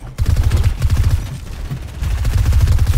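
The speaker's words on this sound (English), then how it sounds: "No, I'm shooting him." Rapid automatic gunfire from a Fortnite match sounds as loud, dense bursts of low thudding shots, nearly continuous with a short lull in the middle.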